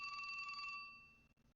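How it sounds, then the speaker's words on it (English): A phone gives one bright electronic trill of ringing that cuts off after under a second. A faint lingering tone then fades into a quiet room. "My phone is ringing."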